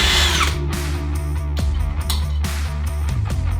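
A power drill bores holes through a metal bracket for a stand-alone wiring loom on an LS-swapped Holden Torana, a loud continuous whine with a few brief bites and dips in pitch, close and without talk.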